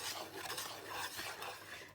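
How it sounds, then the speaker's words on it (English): Waffle batter stirred by hand in a bowl, a thick wet scraping and swishing that runs steadily for a couple of seconds, close and alone. "I'm going to mix this by hand because I don't, well, I'm not going to use this spatula to do it."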